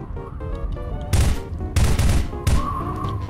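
Gunfire in the Garry's Mod video game: three loud broadband bursts of shots, each lasting roughly half a second, spaced about a second apart over steady game background.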